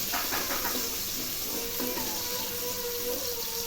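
Onions sizzling in a hot pan while masala rice is cooked, a steady close hiss and crackle with faint clinks, no talking.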